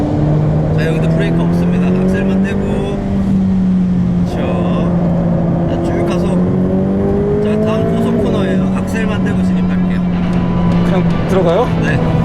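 A Ferrari F8 Tributo's engine drones steadily at high revs on a race circuit, pitch rising and falling as it accelerates, with someone talking over it throughout.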